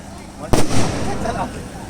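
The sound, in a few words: fireworks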